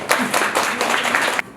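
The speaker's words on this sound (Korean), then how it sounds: "박수 한번 쳐주세요" Audience at a music talk concert clapping, a short burst of close, lively applause that swells and ends abruptly.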